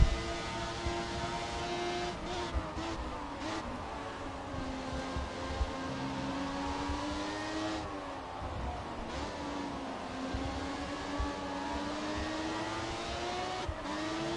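Race cars revving through a corner during a race, several engines whining and rising in pitch together, a sustained layered roar with brief shifts and dips, heard at a moderate distance with no commentary over it.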